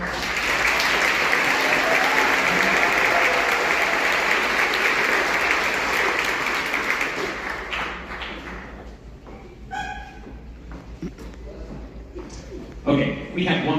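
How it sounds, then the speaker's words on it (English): Sustained loud applause from a school winter band concert audience fills the hall for about seven seconds, then fades into scattered claps and crowd murmur, with a brief final burst of clapping near the end. "let's give them one more round of applause"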